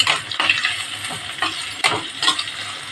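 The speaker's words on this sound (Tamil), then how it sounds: "இதில் வெங்காயம் போட்டு நல்லா வணக்கிக்கலாம்" Chopped big onions sautéing in a pan for prawn biryani, a loud close sizzle broken by repeated rhythmic stirring scrapes about every half second, with no talking.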